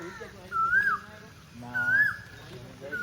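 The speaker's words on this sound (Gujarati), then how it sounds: "આ તમે કોયલનો અવાજ સાંભળી શકો છો." An Asian koel calls twice with rising, whistled notes, then begins a third, fairly near but modest in level over a steady rural background hum beside a village well.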